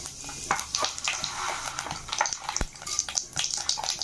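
Cumin seeds and lentils sizzle in about two tablespoons of hot oil in a kadai on a stove, a steady crackling fry with scattered sharp pops throughout.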